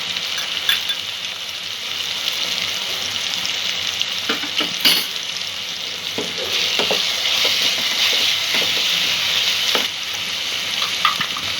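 Ginger garlic paste fries in a pan for a peas and paneer pulao, giving a steady, moderate sizzle with scattered clinks and scrapes of a spoon stirring throughout.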